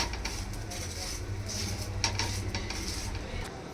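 Aloo paratha frying in oil on a pan: a steady soft sizzle beneath light clinks and scraping of a utensil against the pan, close and continuous.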